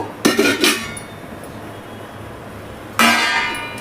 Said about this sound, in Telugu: ఆవకాయ కలిపిన స్పూన్ తోటే అన్నం తోడుతున్నాను